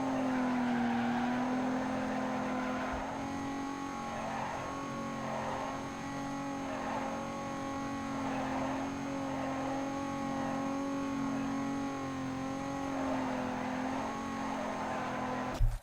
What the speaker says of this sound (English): I like the sound of that engine,